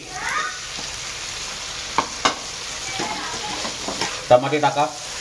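Tomatoes frying in oil for Schezwan fried rice give a steady close sizzle, with a few sharp utensil taps and clinks against the pan and a faint cat-like squeal near the end.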